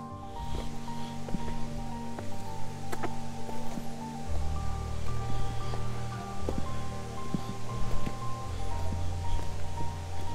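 Water rushes steadily at Sadasiva Kona waterfall, a constant broadband hiss close by with a low droning hum running beneath it.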